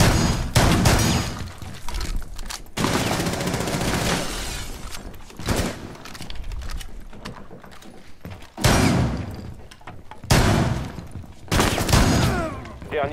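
In Rainbow Six Siege, guns fire through a wall in several loud, rapid bursts with heavy thuds and splintering impacts, spaced across the stretch with brief quieter gaps.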